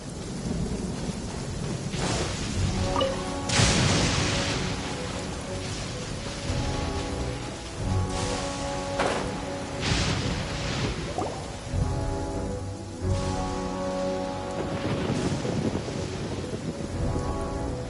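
Steady rain pours down in the video game Genshin Impact, with rolling thunder bursts and dense patter filling the scene, alongside soft game music tones throughout.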